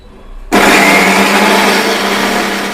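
A mixer grinder bursts on abruptly and grinds chana dal with fennel for a prawn vada batter, a loud, dense, steady whirring roar that holds for over two seconds, close and alone with no talk.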